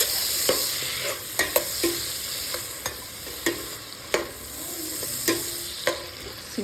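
Chopped tomatoes frying over a low flame for mutton donne biryani, a soft sizzle broken by repeated spoon scrapes and knocks against the pan, about a dozen in a loose rhythm, close up, with no voices.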